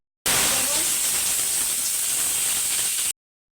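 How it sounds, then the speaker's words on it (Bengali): Nigella seeds tempering in hot fish oil give a steady, loud hissing sizzle that runs unbroken for about three seconds and then cuts off sharply, with no voices over it. "গরম হয়ে গেছে, একটু কালো জিরে ফোড়ন দেবো।"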